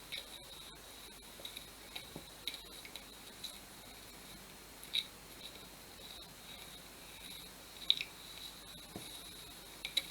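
Rice Krispies cereal is stirred into melted chocolate in a bowl, making faint, soft, sticky squishes and light crackling ticks at an irregular pace, close and quiet.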